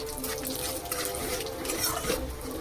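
Hot oil sizzles as curry leaves, green chillies, two dried red chillies and mustard seeds are tempered for kadhi, giving a faint, steady crackling hiss with small flares and no talking.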